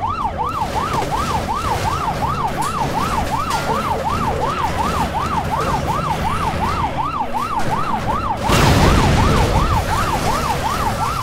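A wailing ambulance siren in Dead Rising 3 cycles steadily up and down, loud and continuous, with a burst of rougher noise joining near the end.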